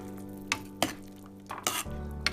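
Gulab jamun mixture stirred in a pan with the flame off, a few sharp spoon-on-metal scrapes and clinks in uneven strokes over a steady low hum, no talking.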